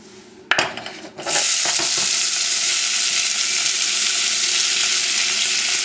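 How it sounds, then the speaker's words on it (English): Vegetables hit a hot pan with chicken stock after a brief clatter of cookware, then a loud, close sizzle runs on steadily with no talking. "Now we're going to saute the vegetables just for a few minutes."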